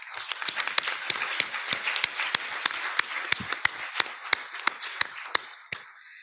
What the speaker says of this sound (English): If you wouldn't mind giving them a round of applause.